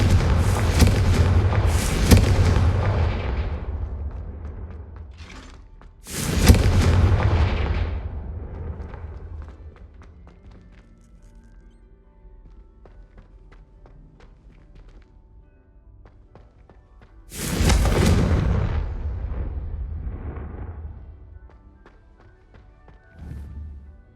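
Confringo blasting spells explode in the video game Hogwarts Legacy: three loud booming blasts several seconds apart, each with a rolling rumble that fades, and quieter ambience in between.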